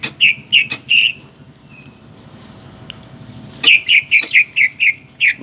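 A caged F1 canary sings in bright, rapid chirping bursts, first a short run of notes, then a pause, then a longer string of repeated trills, loud and close.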